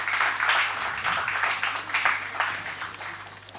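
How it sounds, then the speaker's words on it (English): Applause from an audience at a school debating competition, a steady wash of clapping that swells and fades slightly across the moment, moderately near and without voices over it. "Can we have a huge round of applause, please?"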